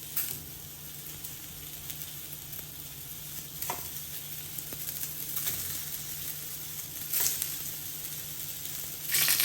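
Round-sliced onion rings sizzling in olive oil on a grill pan, a steady close-up crackle and hiss broken by occasional small pops and scrapes, with no talking.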